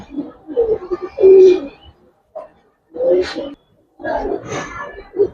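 Giribaz and silver pigeons coo close by in several soft throaty bursts separated by short pauses.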